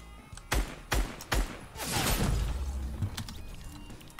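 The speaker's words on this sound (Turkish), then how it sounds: "Ya bana oradan niye sniper sıkıyorsun kanka?" Sniper rifle shots in the Fortnite video game, three sharp cracks in quick succession followed by a longer rumbling blast and a few fainter clicks, loud and close with no speech.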